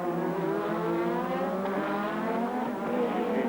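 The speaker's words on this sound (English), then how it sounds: "Prost all over the back of the Ferrari gearbox" Formula 1 race cars at the 1987 Monaco Grand Prix, a Ferrari and Prost's car running nose to tail, their engines holding a loud, sustained high-revving whine with slowly shifting pitch, with no voices heard.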